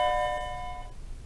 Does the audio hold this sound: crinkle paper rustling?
no